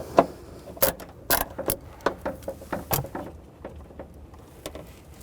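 A wrench works a nut loose on the rear shock absorber of a 2009–2010 BMW 535i xDrive, with a loud clack and then an even run of close ratcheting clicks and small metallic knocks.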